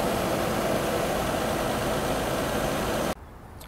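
A Mercedes W124 300CE with the M104 24V engine, noted as shaking badly, runs with a steady loud idle drone that cuts off abruptly near the end.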